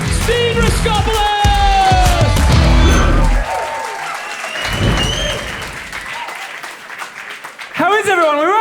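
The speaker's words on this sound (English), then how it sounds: "Keep that round of applause going for the very funny Steve Rascopoulos!" A comedy show audience gives a stand-up comedian a loud, dense round of applause with whoops and cheers that fades after a few seconds into scattered crowd noise and voices.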